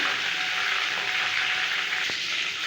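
A washed, dried bunch of curry leaves fries in hot oil with a steady, loud, close hiss and sizzle that stays constant throughout, broken by one faint click.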